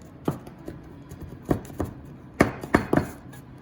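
Cutter pressing through a shrimp quesadilla into triangles on a board, a series of sharp, separated thunks in small clusters, close and distinct with quiet gaps between.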